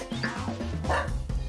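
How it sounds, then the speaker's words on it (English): A dog barks and yips in short, close bursts over a steady bed of music, presented as a farm animal. "This is a dog, and it's definitely a farm animal."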